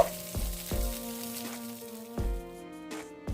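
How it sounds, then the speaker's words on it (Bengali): Paneer fries in oil in a kadai over a medium flame, a quiet sizzle broken by several sharp clicks and taps of a utensil. "এখন আমি মিডিয়াম আঁচে এটা ভেজে নিচ্ছি।"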